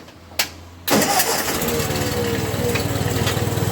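A 1950 Ford 8N tractor engine cranks and catches after a brief click, then settles into a loud, steady, close chugging run that continues to the end.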